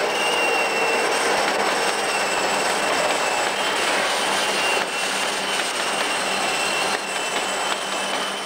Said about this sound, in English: An SD45 leads an SP freight made up of TOFC traffic westbound through the curve at Caliente.